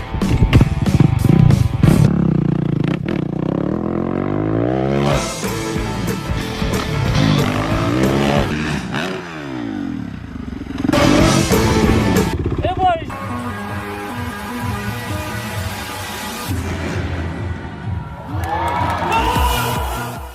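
Australian rider Robbie Madison's record motorcycle long jump: a motorcycle engine revs and sweeps in rising and falling pitch over a cheering crowd, with loud bursts between quieter passages and talk over parts of it.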